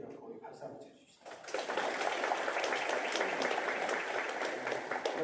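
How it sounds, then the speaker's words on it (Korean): A church congregation breaks into steady, sustained applause after a brief quieter moment, the clapping filling the room at moderate loudness for several seconds. "우리 박수 한번 쳐주시죠"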